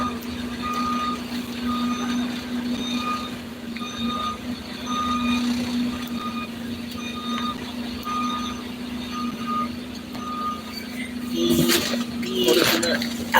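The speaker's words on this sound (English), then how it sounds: "They see this big ass truck is backing up, and he's still just gonna keep on coming." A big truck backs up, its reversing alarm beeping in a steady, evenly spaced series over low engine rumble, with a louder clatter of movement near the end; voices talk faintly in the background.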